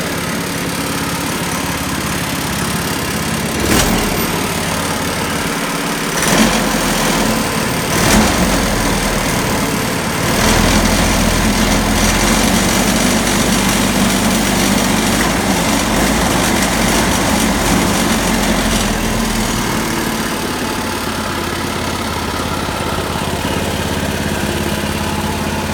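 A Manco Intruder II go-kart engine runs loud and close, a steady small-engine drone with a few brief rises in revs.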